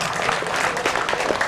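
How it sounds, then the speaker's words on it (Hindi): Brief burst of audience clapping at a Hindi comic poetry gathering, a dense, even patter of many hands close and moderately loud, with no talking over it. "आप लोग तालियां बजाइए"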